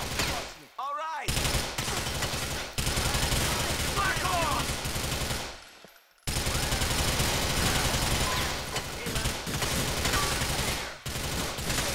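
Gunfire in the video game GTA IV crackles in rapid automatic bursts, loud and dense, with brief gaps between volleys and speech mixed in.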